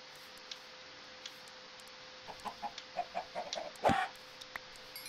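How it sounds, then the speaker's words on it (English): A chicken in a video game gives a short run of soft clucks building to a louder squawk, against faint ticking game sounds and low background hum. "There's a chicken."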